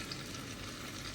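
Meat frying with onions in a pan gives a steady, even sizzle at low level, a continuous crackle with no voices over it.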